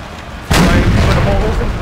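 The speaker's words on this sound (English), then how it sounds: "Firing canister shot." Artillery firing canister shot in a Napoleon Total War American Civil War battle at Shiloh: a sudden loud, close boom that rolls into a long rumbling decay over background battle noise.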